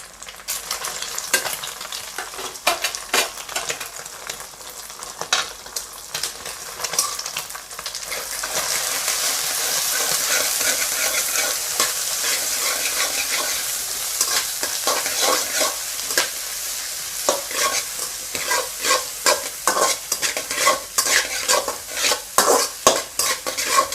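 Big onions and three green chillies sauté in a pan for an egg pepper rice, giving a steady close sizzle broken by frequent scraping stir strokes that grow busier toward the end, with no talking.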